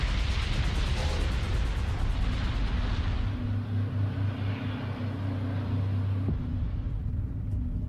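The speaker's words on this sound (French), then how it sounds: "Les contrôleurs aériens entendent les explosions" A loud, deep roaring rumble of plane explosions at Tenerife airport fills the whole stretch, like the sustained boom of a massive blast with no pause.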